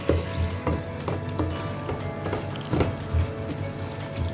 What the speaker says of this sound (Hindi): अब हम अपनी दाल भून लेंगे।